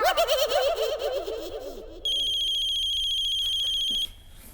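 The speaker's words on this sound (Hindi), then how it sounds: "ये बज रहा है, तुम्हारा फोन बज रहा है।" A mobile phone ringtone starts partway through, a steady electronic ring held for about two seconds, following chirpy, warbling sounds that fade away.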